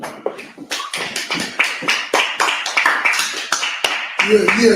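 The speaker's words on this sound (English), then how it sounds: "let's clap it up" An audience claps together during a Scripture Breakdown class in Minnesota, a quick run of sharp, close hand claps over several seconds with voices talking and calling out over it.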